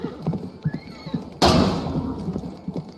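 In a medieval jousting VR game on Quest 2, a horse lets out one loud, close whinny partway through, set against rhythmic hoofbeats and thuds.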